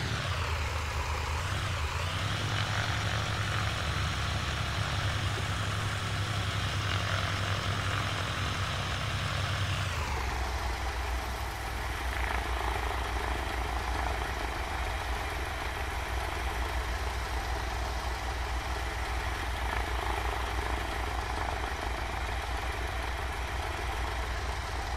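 A Cessna 182 propeller engine in flight in Microsoft Flight Simulator 2020 drones steadily and loudly throughout, then its tone drops and settles to a slightly lower, steady hum partway through, with no talking.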